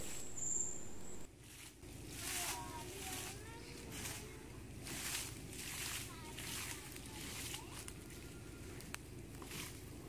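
During borewell cleaning, compressed air forced down a hose churns up muddy water from the bottom, giving a continuous rushing, sloshing gush with surging bursts beneath someone talking.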